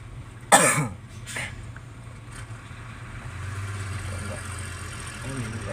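A single sharp cough bursts out near the start, followed by a fainter one, over the low rumble of an idling Isuzu truck engine.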